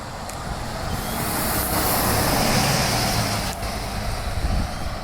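A city bus on route 26 approaches and passes by, a broad rumbling engine and road roar that swells, peaks midway, then eases as it moves off, with a brief hiss partway through.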